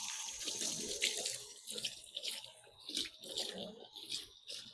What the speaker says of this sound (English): I'm going to let this water run